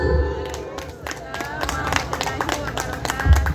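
An audience applauds after a speech at a school PAI Fair speech competition, the claps dense and sharp at close to moderate range. Voices and crowd murmur run underneath throughout.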